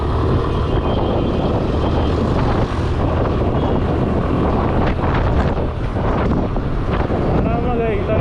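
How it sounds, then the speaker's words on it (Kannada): A Suzuki Access 125 BS6 scooter with a BS6 engine is ridden and accelerates. Its engine is buried under loud, steady wind rush across the microphone, a continuous roar throughout. "ಸೊ ಇನ್ಸ್ಟೆಂಟಾಗಿ ಆಕ್ಸಿಲೇಟ್ ಆಗುತ್ತೆ ಗಾಡಿ"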